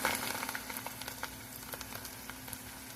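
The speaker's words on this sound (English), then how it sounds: "We got 2 cups of potatoes frying" Potatoes for French fries sizzle and crackle steadily in hot oil, a close, quiet frying hiss with small pops.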